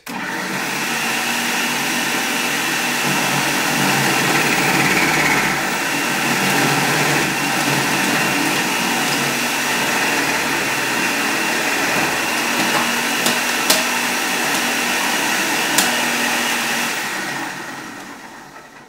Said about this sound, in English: next I'm going to feed the carrots into the food processor. And I have it set up with the shredding disc.